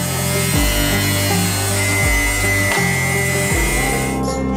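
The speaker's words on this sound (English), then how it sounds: "We take our piece of metal from the machine and cut out the places for bends with a grinder." An angle grinder cuts bend slots into sheet metal for a giant box form, a loud continuous high whine with pitch dips as the disc bites the metal, steady and close throughout.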